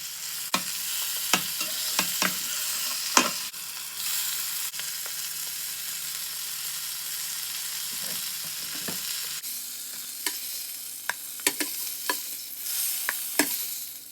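A rainbow trout fillet sizzles steadily in butter in a pan, with sharp clicks and scrapes of a utensil stirring and turning it at irregular moments.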